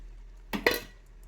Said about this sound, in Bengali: ধনে পাতাগুলো একটু মিশিয়ে নিচ্ছি।